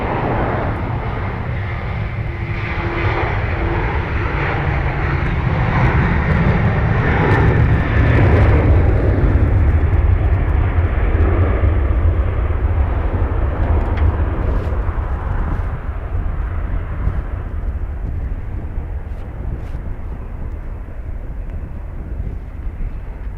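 Aircraft at Dublin Airport in blustery crosswinds, a loud sustained jet roar that swells to a peak and slowly fades as the plane passes, with wind rumble underneath.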